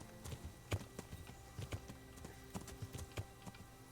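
Horse hooves clip-clop in a video game, a quick run of uneven, fairly soft knocks with several sharper louder strikes, heard without talking.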